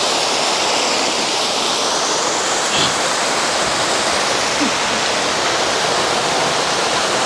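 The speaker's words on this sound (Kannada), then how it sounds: "ಇಲ್ಲಿ ಕಾಣುತ್ತೆ ನೋಡ್ರಿ ಸರ್ ಹರಿವು." Stream water flowing over rocks on a hillside, a loud, steady rushing wash close by with no voices and no breaks.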